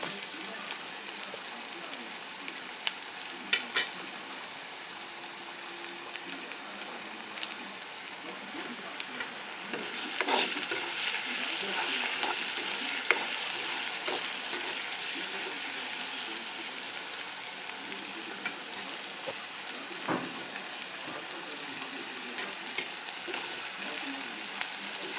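Ginger, garlic and onion paste sizzles steadily in a pan, a faint, continuous frying hiss with occasional stirring clicks.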